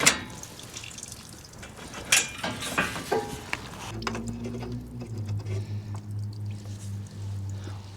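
Coolant drains from an open drain valve on a Toro Wheel Horse 520 LXi garden tractor, close dripping and trickling splashes with a few clinks, then a steady low mechanical hum takes over.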